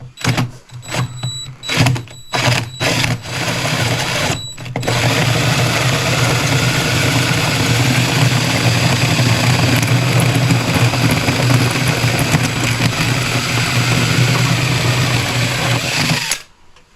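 A 2 1/4 inch hole saw drills steadily into a Honda Odyssey headlight housing. A few short bursts come first, then one loud continuous run of about twelve seconds that stops abruptly.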